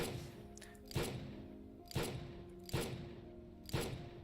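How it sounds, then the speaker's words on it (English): Four evenly spaced heavy gunshots in the video game Girls' Frontline 2, each a sharp blast that decays quickly, about one second apart, over a low steady hum. "but the gunshots continue."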